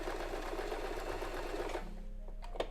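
A sewing machine runs steadily as it stitches a straight seam, a fast even whirring hum that stops near the end, followed by a few light mechanical clicks as it reverses for a backstitch.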